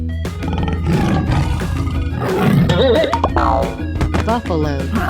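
A tiger roars in a 3D animal video game, a rough roar sounding midway through amid game music and effects, with playful cartoonish tones around it.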